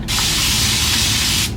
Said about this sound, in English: I go in again with a little bit more water and I spray